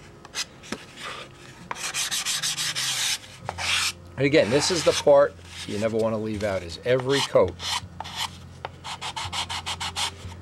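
Hand sanding on a tissue-covered model airplane, a Windy U Master 815, gives repeated short, close raspy rubbing strokes in bursts while someone talks over part of it.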